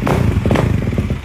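A 450cc motorcycle revs hard while in gear, a loud, close, rapidly pulsing engine note with uneven throttle bursts and some clatter, alone without talk.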